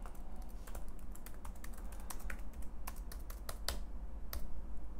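Rapid clicking of keys on a computer keyboard as a password is typed, a close, uneven patter of taps over a low background hum.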